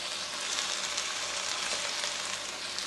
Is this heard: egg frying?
yes